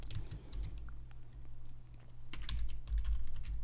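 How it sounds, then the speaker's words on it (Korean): Keys on a computer keyboard clack in a steady run of close taps while a macro name is typed into Microsoft Access 2019, with a low hum running underneath. "매크로 2라고 입력하시고 확인."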